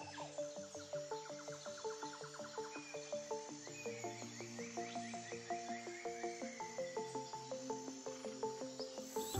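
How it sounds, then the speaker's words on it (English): A dense wetland chorus of frogs and insects, with many overlapping calls pulsing in steady rhythm, loud and close, continuous throughout with no voices. "frogs target the abundant insect life of the wetland"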